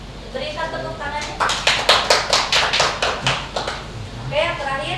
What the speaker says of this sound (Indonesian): Silakan duduk, berikan tepuk tangannya.